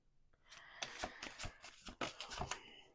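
Tarot cards being shuffled by hand, a quick run of soft riffling flicks and slaps, close but quiet, lasting a few seconds with no talking.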